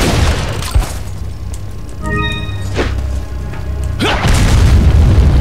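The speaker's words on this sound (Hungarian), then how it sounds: "Gránátozgat meg ilyen fasságok." Grenades go off during the Krauser boss fight in Resident Evil 4, with several deep booms at uneven intervals amid a loud, rumbling game soundscape.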